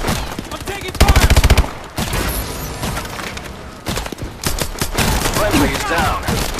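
Call of Duty: Advanced Warfare exo survival mode gunfire: a loud, rapid machine-gun burst followed by sporadic shots and crackling impacts, with a busy, shifting battle din throughout.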